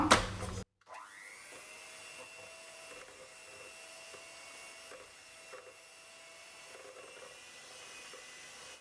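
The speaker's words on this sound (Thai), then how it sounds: "เราก็จะตีให้เป็นฟอง อ่อนๆ ก่อนนะคะ" An electric mixer whisks egg whites into foam for a beetroot chiffon cake, a steady, faint high whine running on after a brief clatter and short silence at the start.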